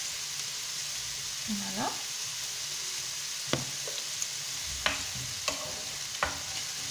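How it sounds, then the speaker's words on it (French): Onions sweating in a pan with salt give a soft, steady sizzle close by, with a few sharp scrapes and clinks from stirring and a brief spoken word. "on va faire suer un petit peu nos petits oignons"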